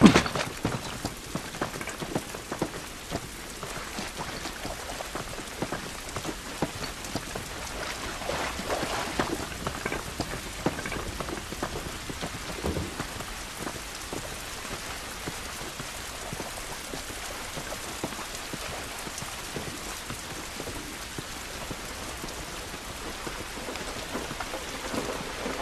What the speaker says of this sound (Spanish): Esta lluvia no nos ayudará.